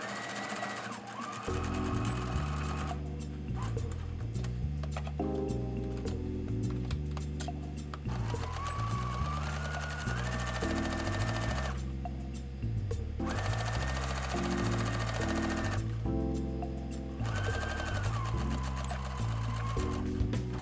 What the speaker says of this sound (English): Sew all darts on the lining and outer fabric, and then press them to the center.